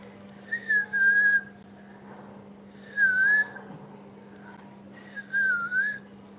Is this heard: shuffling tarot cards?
no